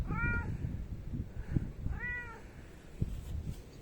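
A cat meows twice outdoors in rainy, stormy weather, each call a clear rising-falling cry near the listener over steady background rumble and wind noise.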